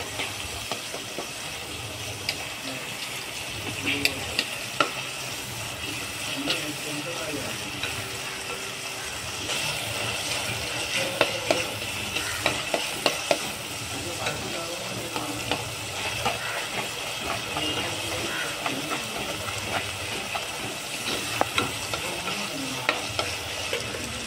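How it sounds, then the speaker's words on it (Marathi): Chopped onion frying in a pot for chicken matka handi, a steady close sizzle with scraping stirring clicks throughout, loud and continuous, a voice faint underneath. "चिरलेला कांदा आहे तो टाकणार आहे आणि तोही छान ब्राऊन होईपर्यंत आणि त्याच्यामध्ये मॅच होईपर्यंत मिक्स करून घेणार आहे।"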